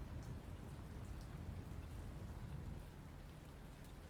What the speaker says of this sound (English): The rain is definitely not helping us whatsoever